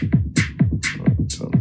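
A Deluge sequencer plays a pattern of a booming kick drum with a hi-hat that has delay on it. Crisp hi-hat bursts and deep kick thumps repeat in a tight, steady loop of electronic beats.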